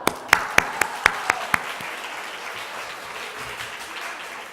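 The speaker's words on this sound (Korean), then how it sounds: "오케이, 박수!" A short burst of hand clapping at a church gathering, several sharp claps in quick succession that fade into a quiet room.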